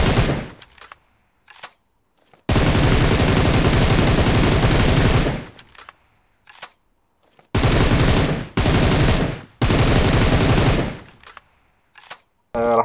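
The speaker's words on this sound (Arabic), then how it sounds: "طبعا الرمي عم يتم بام 7 على مسافة بعيدة وبدون اي" M7 rifle firing at long range in PUBG Mobile, loud sustained automatic bursts of several seconds each separated by short quiet gaps and a few single shots.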